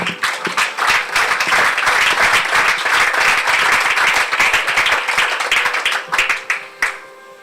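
A church congregation applauding, a loud dense burst of many hands clapping that swells, holds, then thins out into scattered claps near the end.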